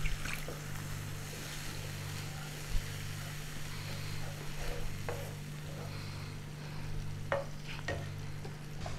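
Spice paste frying in oil for a spicy climbing perch curry, a continuous close sizzle and bubbling with stirring scrapes and a few utensil knocks, under a steady low hum.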